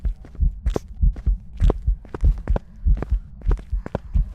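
Ghost footsteps in the horror game Phasmophobia, heavy, evenly paced thuds close by, repeating steadily about twice a second over a low hum.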